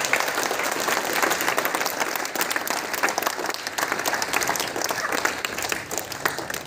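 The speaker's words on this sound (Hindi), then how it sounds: "इनके लिए जोरदार ताली दीजिए।" An audience at a school career counselling award event breaks into loud, sustained applause, a dense wash of many hands clapping that carries on steadily throughout.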